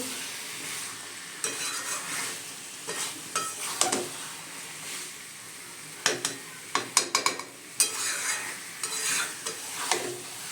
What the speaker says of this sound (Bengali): চিকেনটাকে দিয়ে এবার আমি ভালো করে কষাবো।